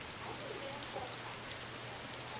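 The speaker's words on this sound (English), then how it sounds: "Wow, it's really raining in this server" Steady rain falls at night in the video game DayZ, a constant soft hiss of drops spread evenly across the clip with no pauses, moderately quiet and with no voices.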